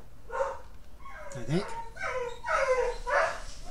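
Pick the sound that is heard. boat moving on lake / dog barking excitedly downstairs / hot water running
dog barking excitedly downstairs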